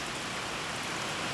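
Steady rain falls outside, a dense, even hiss of drops with no pauses, fairly close and alone.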